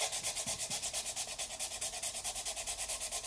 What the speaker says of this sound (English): And, you know, it's sanding. It takes forever.